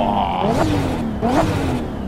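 A drift car in Assetto Corsa on the Ebisu touge course revs hard, and its engine pitch sweeps up and down between shifts. Turbo whistle and flutter sit over a loud, continuous engine drone.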